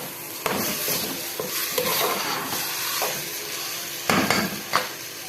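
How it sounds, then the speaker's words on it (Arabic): Onions and cumin sauté in a pan: a steady sizzle with repeated scraping and clinking of a spoon stirring against the metal, close and continuous. "تشويحه كمان كده اهي"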